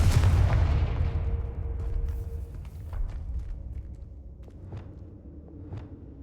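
A Confringo blasting spell explodes in Hogwarts Legacy, a loud booming burst at the start that rumbles and decays over several seconds, followed by scattered faint pops and thuds.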